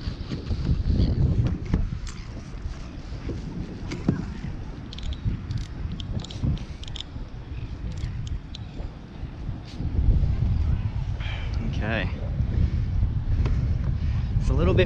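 Steady wind buffets the microphone while someone fishes for Australian bass from a kayak on open water, a constant low rumbling roar that swells louder partway through.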